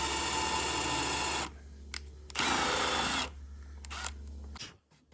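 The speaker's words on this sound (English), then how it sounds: "Now I'm gonna countersink the holes because we're gonna put a covering over this." A drill countersinks screw holes in a wooden car center console piece, running in two loud bursts of about one and a half seconds each, with brief quieter whirs and clicks in between.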